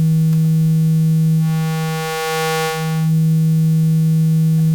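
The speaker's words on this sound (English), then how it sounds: "we have our nice sine wave coming in" A steady sine wave from a modular synthesizer drones on, a pure tone with a low hum-like pitch, briefly swelling with a hissy brighter wash in the middle.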